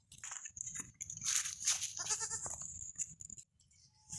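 A goat kid bleats repeatedly close by while standing beside its mother, short nasal cries in an irregular run over a low rustling farmyard background.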